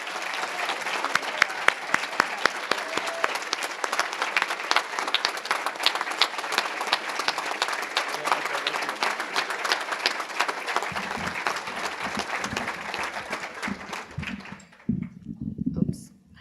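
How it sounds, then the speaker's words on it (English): An audience at the 2018 Lapeer Citizen of the Year Awards gives the nominees a dense, steady round of applause that holds for about fourteen seconds, then thins out and fades, leaving a few scattered claps and faint room sounds. "let's give another round of applause for all of our nominees here"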